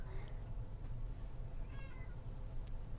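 A gray cat awaiting adoption meows softly, a faint drawn-out call partway through against quiet room noise.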